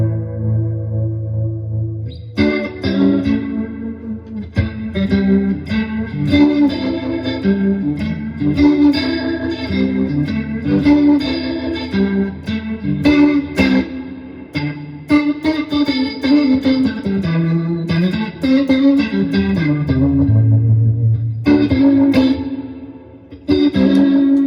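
Electric guitar run through a modulation effects pedal, its pulsing shifting between slow and fast speeds as notes and chords ring out loudly with a wobbling, chorus-like shimmer, alone without talk.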